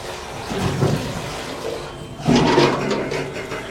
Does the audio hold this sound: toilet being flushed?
yes